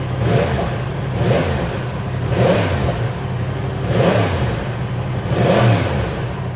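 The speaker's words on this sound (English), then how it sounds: "This is just how the MT sounds in stock form." A Yamaha MT-10 motorcycle with its stock exhaust revs repeatedly in loud, rising bursts, roughly every one and a half seconds, close by.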